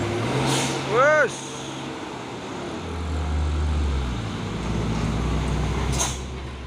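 A Fuso truck strains uphill with a low, heavy engine rumble that swells and fades, broken by a brief rising whistle and a couple of sharp air hisses.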